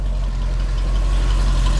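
A 1958 Ford F100 pickup idles with its dual exhaust giving a loud, steady low rumble from close behind the truck, continuous and even, with no talking.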